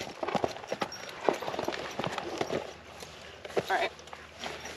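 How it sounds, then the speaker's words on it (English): Horse hooves clip-clopping on a dirt trail, a close, uneven run of hoofbeats while people talk over them. "we scared the horse"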